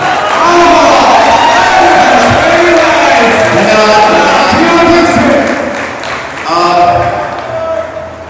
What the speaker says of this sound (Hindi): एक बार और जोरदार ताली